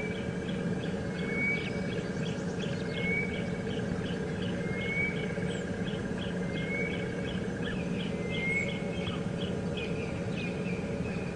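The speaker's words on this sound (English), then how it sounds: "The bird that we could hear calling off in the distance there was a grey-headed bushshrike" A grey-headed bushshrike calls repeatedly in the distance at a South African game reserve during a morning safari drive, its faint whistled notes recurring at regular intervals over a steady bed of insect and bush ambience.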